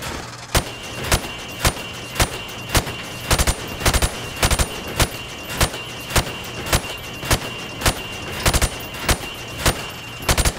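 Rifle fire at pop-up targets in Call of Duty 4 Modern Warfare, a long run of sharp loud single shots at a fairly regular, brisk pace over steady background noise.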